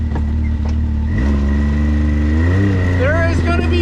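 A Can-Am Maverick X3 Turbo side-by-side works along a wooded trail, its engine droning loud and close, then revving twice with the pitch climbing and falling.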